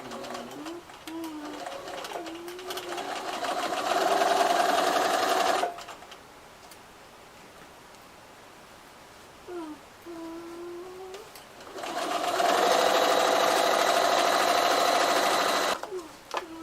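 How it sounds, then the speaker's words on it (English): A sewing machine stitches along a shirt's existing top stitch in two long, steady whirring runs separated by a pause. Pigeons coo softly in the background. "I just try to sew right over top of the existing shirt's top stitch."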